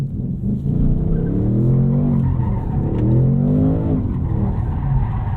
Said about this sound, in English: Just a little skid, right?